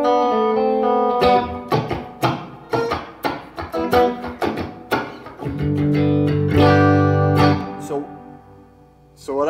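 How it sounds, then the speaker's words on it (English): Electric guitar chords run through a short plate reverb, strummed hits with brief decaying tails that stop cleanly between phrases, loud and close. "So what I'm doing there is it's actually a pretty short reverb"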